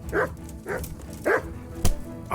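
Dog in the medieval role-playing game Kingdom Come: Deliverance barking in a few sharp, separate yaps spread over two seconds, close and fairly loud, with no talking.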